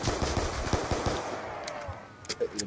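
Pistol shots in the zombie survival game Black Ops 2 Zombies, a quick run of sharp cracks over dense game noise that fades off, followed by a few isolated louder pops.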